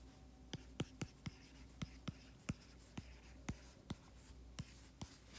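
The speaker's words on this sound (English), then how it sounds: "Let's write the formula out because it's good for us." Chalk or marker strokes on a lecture board while a formula is written out, sharp repeated taps and scrapes at an irregular rhythm, close and fairly quiet over a faint room hum, with no talking.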